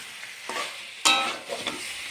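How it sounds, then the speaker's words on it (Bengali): Meat being stir-fried kosha-style in a pan, giving bursts of sizzling and frying with scraping stirs, one sharp loud surge midway, close and without talk. "মাংস কষা হচ্ছে"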